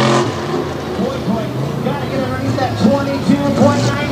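Ford-powered Jeep drag racer revving and launching hard at a three-wide drag event at Lake Erie Speedway, a loud, sustained engine roar with rising revs, heard under an announcer's commentary.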